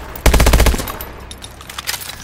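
Automatic gunfire in the video game Call of Duty: Advanced Warfare, fired through a wall: a loud rapid burst of shots that stops abruptly, followed by scattered fainter impacts and echoing tail.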